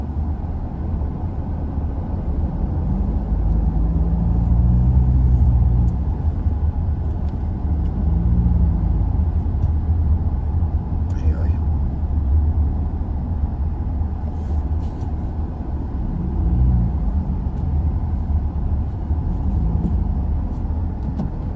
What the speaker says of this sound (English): Traffic at the moment.